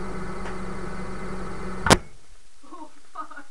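A microwave oven heating an egg gives off a steady droning hum, then a sharp sudden pop near the middle as the egg bursts, leaving quieter scattered sounds and faint voices afterward.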